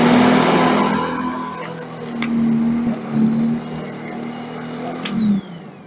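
An electric dethatcher scarifier works a lawn with its tines set to depth 2, giving a steady whining hum with a sharp high tone. The sound stays continuous for several seconds, then winds down near the end, with no talk over it.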